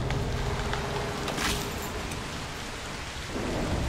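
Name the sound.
thunderstorm with rain in the video game Broken Pieces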